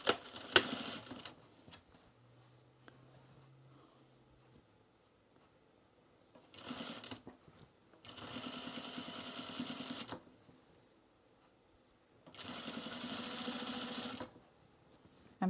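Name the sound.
sewing machine stitching in the seam of the binding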